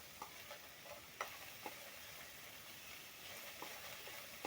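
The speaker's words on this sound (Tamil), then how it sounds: "5 மினிட்ஸ்க்கு நல்லா வதக்கிக்கோங்க." Chopped carrot, beans and peas sautéing in oil in a pan for veg noodles, a steady soft sizzle with occasional light stirring clicks and scrapes.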